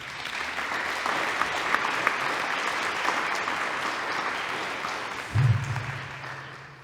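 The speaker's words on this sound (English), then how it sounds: "could we please give them a round of applause?" Sustained audience applause fills a hall at a student design competition awards ceremony, steady and dense throughout, with a brief louder thump near the end before it tapers off.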